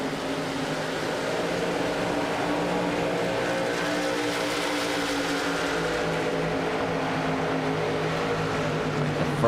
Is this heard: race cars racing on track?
yes